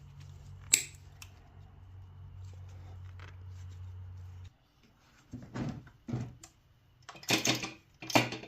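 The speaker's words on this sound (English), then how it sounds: "Give it a little snippy snip here" Copper motor windings of an old dehumidifier being cut with snips, a handful of sharp, close clicks and crunches near the end after a steady low hum stops.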